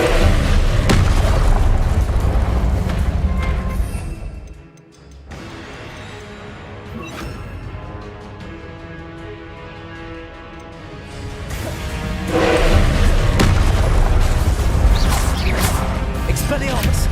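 Spell blasts in the video game Hogwarts Legacy, loud booming bursts and crackling impacts that drop away into a quieter stretch and then surge back heavily, with voices among them.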